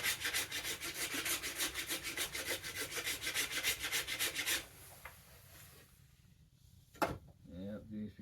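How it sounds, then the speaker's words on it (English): A gummed-up rasp files a yew wood bow in fast, even back-and-forth strokes, loud and close, then stops, leaving a quiet pause, a sharp knock and a voice. "I'll use the rasp for that one."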